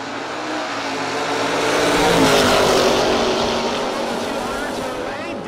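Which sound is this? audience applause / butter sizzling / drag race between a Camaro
drag race between a Camaro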